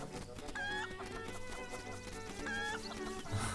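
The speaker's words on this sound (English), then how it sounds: "Little chicken." A cucco chicken clucks in repeated short synthesized bursts over bouncy game music in Mabe Village in Zelda: Link's Awakening, with no talking.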